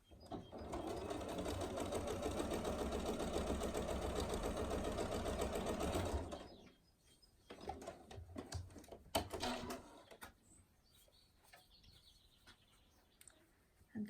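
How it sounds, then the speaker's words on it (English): A sewing machine top stitches a quarter inch along the folded edge of a fabric tool wrap, running loud and steady for about six seconds before stopping; quieter handling sounds follow. "we're going to top stitch along the folded edge"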